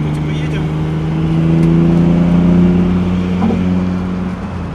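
Mitsubishi 3000GT (GTO) driving slowly along, a steady close in-car engine hum with a gradual rise and easing off, rhythmic low harmonics throughout.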